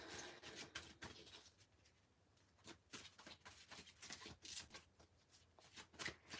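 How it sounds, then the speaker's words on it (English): Soft, quiet riffling and slapping of tarot cards being shuffled, in quick repeated bursts with brief pauses between. "Well, let me see. Let me just shuffle."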